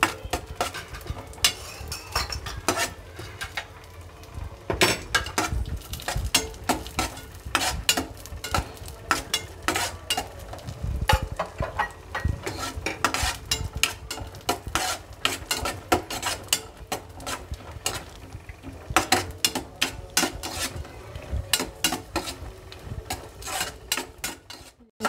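Raisins frying in a pan while a spoon stirs them, with constant quick scraping and tapping clicks over a low sizzle, close and steady, without talk.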